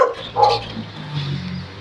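A dog gives a quick bark or yip, fairly close, followed by low rumbling noise and an excited voice in the background.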